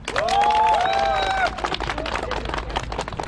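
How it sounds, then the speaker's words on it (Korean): A crowd of runners and walkers gathered at a Gwacheon stadium track for the start of a training session breaks into a burst of clapping, which follows a raised voice and carries on steadily to the end. "박수 한번 해주시고."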